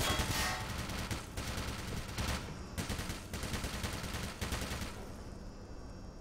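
Rapid automatic turret fire in the Black Mesa video game, a loud sustained burst of gunshots that runs almost unbroken and eases off near the end.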